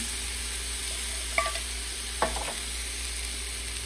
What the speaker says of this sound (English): So to the pan, I'll add the jackfruit